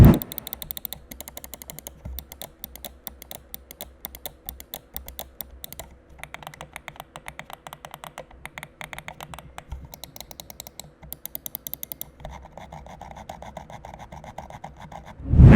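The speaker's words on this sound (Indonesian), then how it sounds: "switchnya di sini menggunakan Wano Blue Shell White Dots yang rasanya itu lumayan clicky" Rapid, crisp clicks from the switches of a Fantech Kanata S WG9S computer mouse in dense bursts, close and dry, with brief pauses between runs and no voices.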